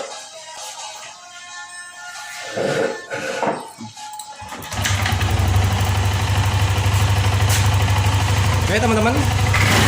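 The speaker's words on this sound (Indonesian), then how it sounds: "motor sudah menyala" A Yamaha Lexi motor scooter with an ignition fault cranks and catches, then settles into a steady idle that continues to the end. A person speaks briefly before it starts.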